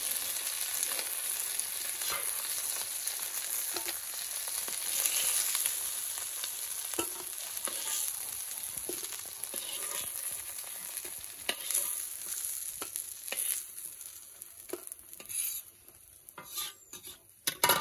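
Snakehead and climbing perch (koi) fish fry in hot oil, giving a steady, close sizzle with occasional scrapes and clinks of a utensil stirring in the pan throughout.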